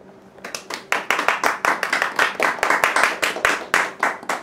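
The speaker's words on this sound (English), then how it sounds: "Little golf clap." Light golf-clap applause from an audience at the end of a research speech: a short burst of scattered hand claps that starts abruptly and holds steady for a few seconds, fairly close.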